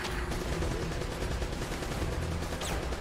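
Rapid, sustained turret gunfire in the video game Uncharted: Drake's Fortune: a dense, continuous rattle of shots that stays loud and steady for about three seconds with no pauses.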